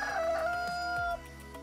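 A rooster crows once among a pen of crossbred black chickens, a drawn-out, tonal cock-a-doodle-doo that rises and holds before breaking off, with other hens clucking faintly in the background.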